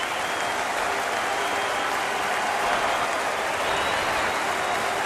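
A rugby crowd at a Leicester Tigers versus New Zealand Māori All Blacks exhibition match cheers and applauds in a dense, continuous wash of clapping that holds at a steady level.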